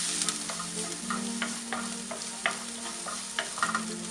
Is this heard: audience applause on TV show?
no